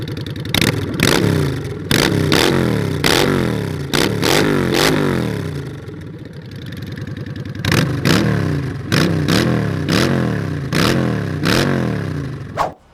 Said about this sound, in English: here's what that same V-twin sounds like with an aftermarket exhaust on it